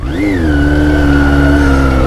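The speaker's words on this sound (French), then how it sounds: "il y a une grosse moto qui me dit bonjour" A big motorcycle revs loud and close as it passes a rider in Toulouse traffic, its engine note climbing sharply then holding a steady high drone for about two seconds.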